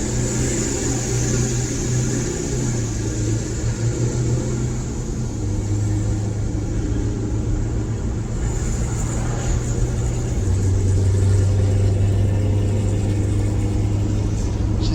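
A heavy Prevost coach bus accelerating on a road test after a brake inspection, its deep engine drone steady and loud, rising in pitch through the gears with no one talking.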